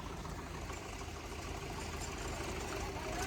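A heavy engine idles nearby with a steady low chugging rumble, continuous and unchanging.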